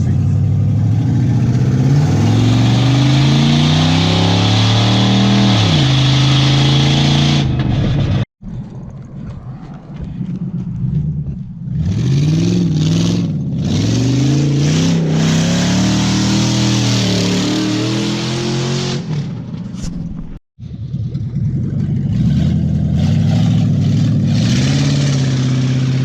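Police mobile command post vehicle driving on the street, its engine loud and close, revving up and down repeatedly through rising and falling pitch sweeps, with two brief cutouts.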